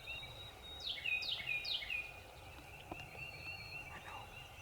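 Wild turkey gobbling three times in quick succession at a distance, clear over a quiet outdoor background during an Indiana spring hunt.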